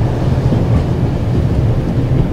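Steady low rumble of a moving train in The Raven: Legacy of a Master Thief, a continuous dense roar with no breaks, loud and close throughout.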